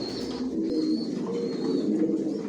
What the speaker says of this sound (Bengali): মাশাআল্লাহ বিগ সাইজের লংয়ের কবুতর, বিগ সাইজের।